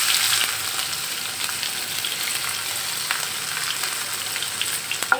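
Bay leaves and chopped onion hit hot oil in a pan used for frying fish, giving a steady, close sizzle with a few sharp crackles and stirring scrapes throughout, no voices.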